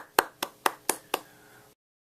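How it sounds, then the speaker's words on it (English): Five slow, evenly spaced hand claps from a single person, sharp and close, fading into silence afterward. "A round of applause."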